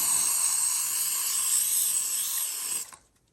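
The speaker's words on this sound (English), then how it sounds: "I'm just gonna use regular hairspray" Regular aerosol hairspray sprayed as a fixative over a journal page, a steady close hiss for nearly three seconds before cutting off, with no talk.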